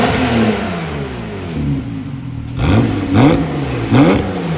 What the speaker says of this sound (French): C'est la première Carrera équipée d'un moteur turbo, donc en termes de sonorité, il manque quelque chose.